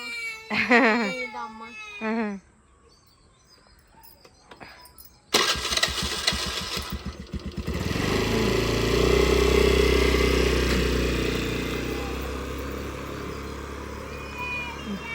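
Two-wheeler ridden by a woman in a village, its engine starting with a sharp burst and then a steady running drone as it pulls away, with people talking and laughing before it starts.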